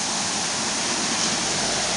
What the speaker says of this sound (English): a rare sight of running water